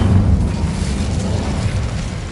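A fire spell blast from a wizard game bursts out as a loud, dense roaring whoosh, sustained for a couple of seconds with heavy low rumble.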